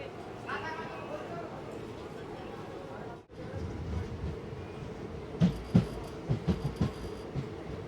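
A passenger train runs toward New Jalpaiguri, a steady low rumble of carriages rolling along the track with a brief dip midway, then a series of sharp rhythmic knocks and clacks from the wheels toward the end.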